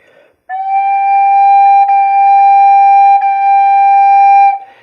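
A side-blown spirit flute holds one steady, close note for about four seconds, with two brief tongued breaks that renew the tone without changing pitch.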